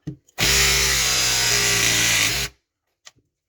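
Powered crimping pliers pressing a fitting onto a pipe for a home compressed-air line, one loud, steady motor whine lasting about two seconds, close up, then silence and a faint click.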